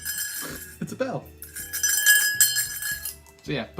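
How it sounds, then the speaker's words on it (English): A small bell rings during a Pokemon HeartGold randomized playthrough, bright metallic tones sounding over the speaker's continuous talk. "Look, it's a bell."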